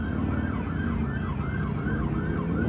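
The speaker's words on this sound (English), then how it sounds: "Ambulances." Ambulance sirens on a Las Vegas street at night, a repeating wailing siren sweep rising and falling over steady traffic rumble, moderately close and continuous.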